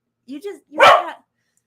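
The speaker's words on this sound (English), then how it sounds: "Oh, dog." A dog barks a few times close by, two quick yips followed by a louder, fuller bark, then silence.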